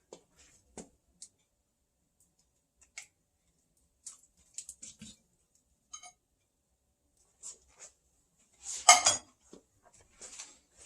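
Vegan cornbread dressing with cream of celery soup is stirred in a pot, giving sparse, quiet spoon clinks and scrapes, with a louder burst of scraping near the end.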